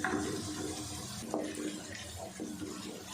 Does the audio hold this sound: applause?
no